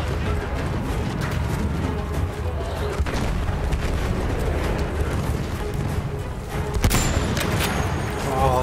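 Gunfire and explosions in the video game Battlefield 1, a dense, continuous battle din with scattered shots and booms, loud throughout, with a louder burst near the end.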